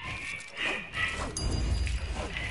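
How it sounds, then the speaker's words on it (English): A cousin's small dog barks faintly in the background, a few short yaps set back behind game sounds and room noise. "You hear that in the background, the dog?"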